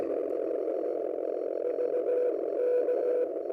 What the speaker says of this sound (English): There's a fair bit of band noise there.